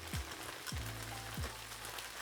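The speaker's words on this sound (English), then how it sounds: "if you can hear that sizzling, that is the rest of the juices reducing" Leftover juices sizzle and reduce in an overfilled paella pan of rice and peas, a steady close crackle with a few brief louder pops, no talking.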